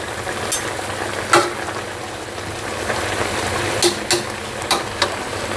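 Mixed vegetables with oyster sauce sizzle steadily in a hot pan, with a constant crackling hiss broken by several sharp clinks and scrapes of stirring at intervals.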